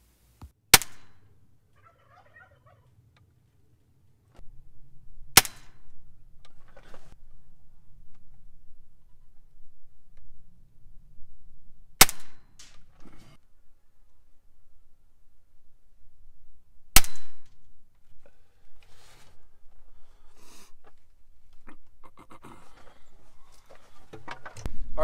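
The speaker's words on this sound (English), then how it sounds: "This next couple of shots was spot on." Four sharp, isolated shots from a Daisy Powerline 880 air rifle fired outdoors, spaced several seconds apart, each a crisp snap standing alone against quiet ambient background without talk.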